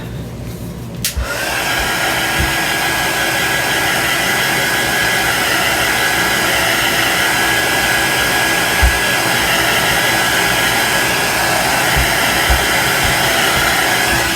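A heat tool or dryer blowing on freshly inked craft paper switches on after a brief pause and runs as a loud, steady close whoosh with a faint whine, with occasional light knocks beneath it.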